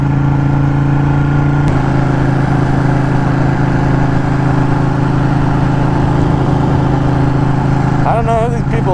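A VW trike engine runs loud and steady close by throughout, holding a constant drone with a brief rise near the end rather than a sharp rev.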